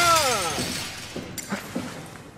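A glass window shatters in the video game Soma, a sharp, bright crash at the start, followed by a ringing spray of falling shards and a few scattered tinkling pieces landing afterward.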